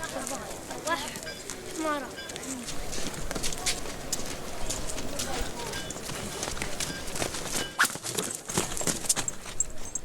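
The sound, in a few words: donkey hooves clip-clopping at Petra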